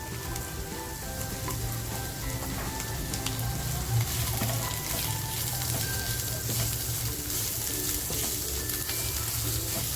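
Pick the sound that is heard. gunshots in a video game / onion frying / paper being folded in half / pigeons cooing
onion frying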